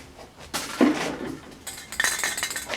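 Empty aerosol cans clink and rattle together as they are handled near a Kubota, giving light metallic knocks and scrapes that come in scattered, uneven bursts.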